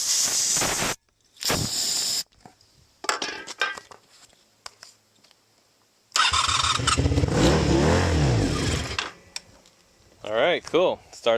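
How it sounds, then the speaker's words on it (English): A 1987 Honda Super Magna 700 motorcycle engine cranks and fires on ether, catching into a loud, rough idle for a few seconds, preceded by hissing spray bursts and clicks, with a person speaking near the end. "Alright, cool. Starts on ether."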